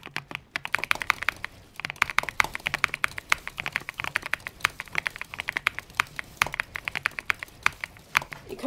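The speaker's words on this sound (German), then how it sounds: "Ihr hört zwar immer noch die Ingame-Sounds ein bisschen, aber nicht so laut wie die Tastaturen-Sounds." Rapid, steady clacking of a custom mechanical keyboard with a creamy tone, typed up close and continuously, with faint in-game sounds barely audible underneath.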